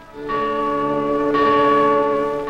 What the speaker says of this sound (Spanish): Uno de los estudiantes acostumbra tocar una campana para anunciar la llegada del equipo